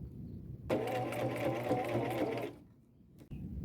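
A sewing machine runs in one close, loud burst of just under two seconds, stitching a circle around fabric flowers on an upcycled boho belt, then stops into near silence.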